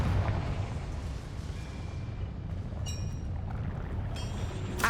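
A Confringo fire spell bursts in Hogwarts Legacy, a dull boomy rumble spreading under a rushing, crackling wash with bright magical chimes ringing out near the end, no voices over it.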